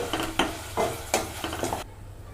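Turmeric and green chilli tempering frying in a pan, several rhythmic spatula stirs over a soft sizzle, then falling quiet at the end.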